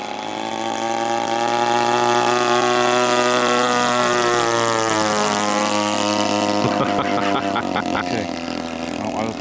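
A giant 2.5 m model airplane with a single petrol engine and CDI ignition roars past in a fast low pass, its buzzing tone rising and then falling in pitch as it goes by, loud and close.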